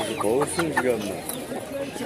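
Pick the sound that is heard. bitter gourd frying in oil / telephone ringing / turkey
turkey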